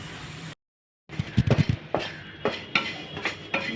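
Bitter gourd pieces dry-roasted in a pan with no oil, stirred with a metal spoon, giving soft repeated scrapes and clinks against the pan after a brief silence, close and moderately loud.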